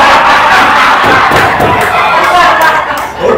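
An audience at a Sunday service erupts in loud cheering and shouting, a dense continuous roar of voices with scattered thumps, close and full throughout.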